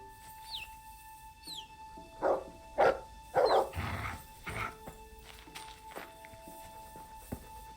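A dog lets out several short barks in quick succession mid-scene, fairly close, amid rustling, footsteps and a faint steady tonal background.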